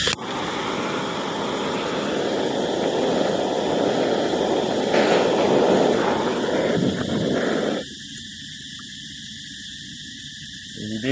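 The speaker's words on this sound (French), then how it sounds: "Donc moi j'utilise un chalumeau." A blowtorch roars steadily while heating a bamboo handle, a loud continuous rushing hiss that cuts off abruptly near the end and leaves a quieter background.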